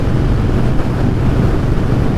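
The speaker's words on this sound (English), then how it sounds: "Bike's riding straight down the highway." Steady wind rush and road roar from an Indian Chief motorcycle cruising down the highway, a continuous dense noise with a low rumble underneath and no pauses.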